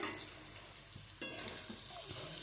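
Rice is tipped into a hot frying pan and stirred for mixed rice, with a soft steady sizzle and a few scraping stir strokes, one louder clatter midway, all fairly quiet and close.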